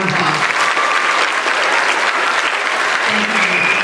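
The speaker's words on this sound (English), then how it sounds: "Please give them a round of applause." Loud, sustained applause from a large audience at a high school senior awards ceremony, a thick unbroken roar of clapping with faint voices under it.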